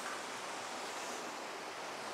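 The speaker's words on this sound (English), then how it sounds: "Now we're really close to the waterfall" Rushing water at Enders Falls, heard up close during a drought, forms a steady, loud broadband roar that fills the whole clip without a break.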